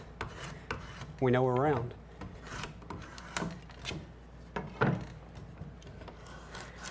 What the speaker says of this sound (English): You can see how nice the draw knife peels off these fibers